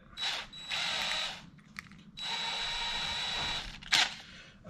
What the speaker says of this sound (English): Now I'm about to drill with a 2 mil drill bit.